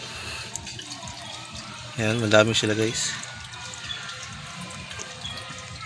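Water flows and drips steadily into a guppy fish tank, with a brief louder splash in the middle, while a person speaks over it.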